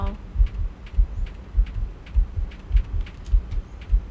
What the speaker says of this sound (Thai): หัวใจใครเต้นตึกตักตึกตัก